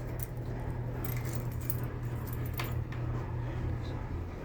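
A set of keys jangles faintly in a quiet room during a paranormal investigation, producing scattered light metallic clinks over a steady low hum.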